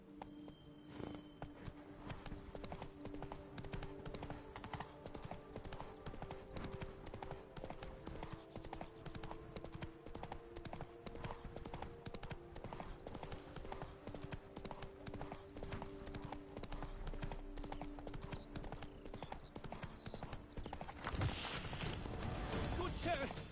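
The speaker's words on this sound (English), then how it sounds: "Run, Roach." In The Witcher 3, a horse's hooves beat a steady, rapid clip-clop throughout, with ambient game music and effects in the background.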